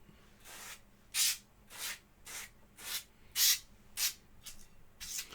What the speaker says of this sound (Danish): så sprayer jeg lidt olie på